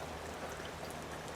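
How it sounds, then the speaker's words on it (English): Steady rain falls in a soft, even patter, faint and continuous with no voices. "as you can see, it's raining"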